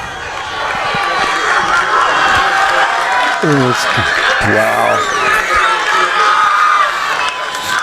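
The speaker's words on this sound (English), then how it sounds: "The crowd's still here, and people still cheering." A crowd at a high school football game at night cheers and roars in a steady wash of noise. A nearby voice exclaims briefly over the din.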